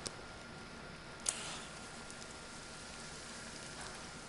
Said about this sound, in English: And the rain's gonna hurt him a bit.